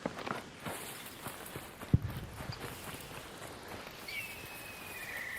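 Quiet footsteps crunch faintly through the in-game ambience of ARC Raiders, with one slightly sharper step in the middle. A few distant high chirps sound near the end.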